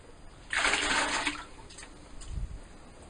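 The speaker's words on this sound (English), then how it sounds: "Then empty out the bowl of cold water until the pasta is about to fall out" Cold water poured out of a bowl of strained pasta, a splashy gush of about a second followed by a faint trickle and a soft low thud.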